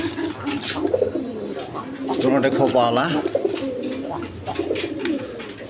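Pigeons kept in pairs at a seller's coop coo repeatedly in close, throaty rolling calls, overlapping one another while someone talks over them.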